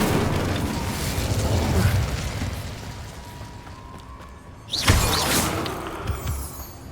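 A fire spell, Incendio, is cast in Hogwarts Legacy, bursting out as a sudden loud whoosh and crackling blast that stands out over rumbling game ambience and then fades.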